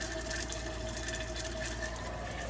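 Water rushing steadily into the bowl of a 2021 Coachmen Crosstrail 22XG RV toilet when the foot pedal is pressed halfway, a continuous close hiss and gush with no speech.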